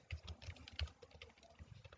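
Clicky keystrokes on a computer keyboard as code is typed, an irregular run of close, moderately loud taps with small pauses, and no voices.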